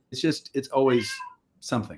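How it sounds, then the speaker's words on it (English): A pet cat meows in short, rising cries mixed in with a person talking nearby, the two overlapping closely. "That is a cat"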